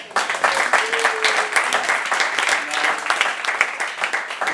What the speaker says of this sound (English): I think that she deserves a louder applause